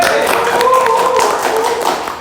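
Audience at a prize announcement for a small-business competition breaks into a short round of hand clapping, dense taps mixed with voices chattering throughout.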